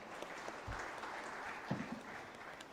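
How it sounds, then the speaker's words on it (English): Audience at a finance seminar inaugural function applauding as a guest speaker is invited up, a steady, moderately faint patter of clapping with a few sharper claps standing out. "Ladies and gentlemen, kindly extend a warm round of applause."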